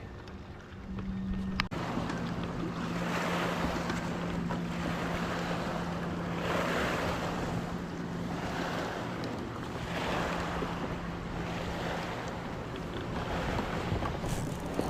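Steady rushing wind and water noise with a low motorboat hum running throughout, waves and passing boat traffic on Lake Wylie, South Carolina, during a bass fishing tournament.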